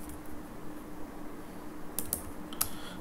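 Typing C# code on a computer keyboard, heard as a few faint, sparse key clicks near the end over a low steady room hum, with no speech.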